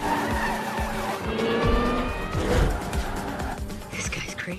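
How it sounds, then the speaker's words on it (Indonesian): In an action-film street race, race cars skid with long, loud tire squeals and roaring engines passing close, in overlapping bursts. "Di tengah balapan Dom menunjukkan skill edannya, sehingga membuat Letty kagum kepadanya."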